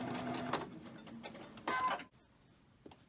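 A sewing machine runs on cotton fabric in a quilting setup, with a basting stitch being sewn. Two short bursts of mechanical whirring, close and moderately loud, stop abruptly, followed by near silence with a faint tap.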